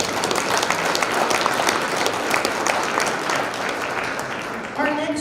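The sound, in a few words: audience applause for scholarship student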